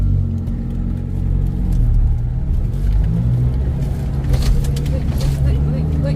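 A farm tractor drives along a rural field track, its engine giving a loud, continuous close rumble with slight changes in pitch, while people talk over it.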